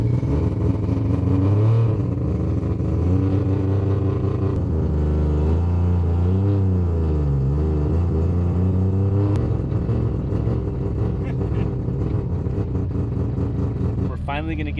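A 3-rotor rotary engine car starts and idles with a loud, throbbing burble, revving up and down in swells at close range, while a voice talks over it.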